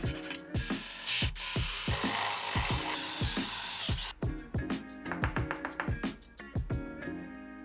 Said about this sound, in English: We're gonna cut the top off of it and then I'm gonna drill down